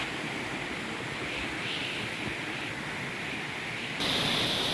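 Mountain stream water flows steadily at Geomryongso spring in Taebaek, a continuous broad rushing wash heard close and alone, growing slightly brighter near the end.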